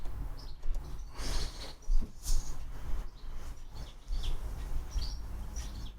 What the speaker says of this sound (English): you got the birds chirping back there